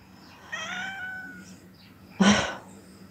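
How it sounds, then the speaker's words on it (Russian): A cat injured on a road cries out in two distinct wailing meows, the second louder and harsher, against a quiet background. "на дороге лежала и кричала кошка"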